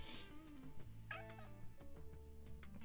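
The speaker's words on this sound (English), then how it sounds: "He is a flamboyant Siamese." A Siamese cat meows loudly up close, a drawn-out, wavering yowl followed by a shorter cry, with faint background noise.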